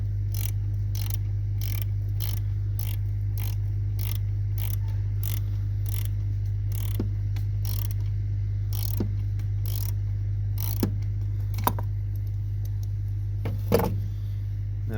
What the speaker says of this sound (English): Now we're going to want to take our 10 millimeter socket. We're going to want to loosen up the positive terminal.